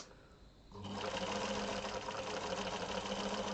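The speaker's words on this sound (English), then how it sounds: "Stitch length 3 straight stitch." A sewing machine runs a straight stitch with stitch length 3 on a kids' Henley shirt placket. It starts after a brief quiet pause and then hums and clatters steadily, close up.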